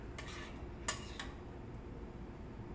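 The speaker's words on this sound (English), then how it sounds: "I'm gonna load that up in our little bowl here" Food with herbs and olives spooned into a small bowl, giving a few light, faint clinks of a spoon against the dish over a quiet room hum.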